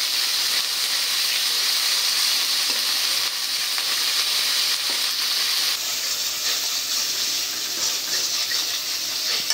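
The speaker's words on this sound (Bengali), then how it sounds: "পেঁয়াজ বাটাটা তেলের সাথে ভেজে নেব।" Onion paste fries steadily in hot oil for a koi fish curry, a dense, even sizzle and hiss that stays loud and unbroken throughout, with no voices.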